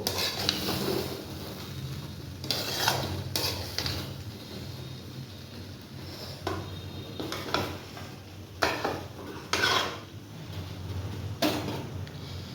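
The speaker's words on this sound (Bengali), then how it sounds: "আর একটু 1 মিনিটের জন্য এইভাবে নাড়াচাড়া করব।" Plain pulao rice is stirred in a pot with a spoon, giving intermittent soft scraping strokes over a low background hum, quiet and close.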